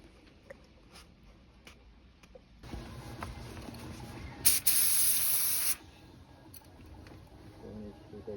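A cheap spray gun set to about 30 psi sprays primer onto a budget fibreglass car bumper. After a quiet start, a steady close hiss begins, swells into a louder blast, then cuts off.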